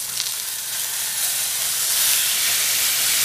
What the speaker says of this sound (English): while you've got it searing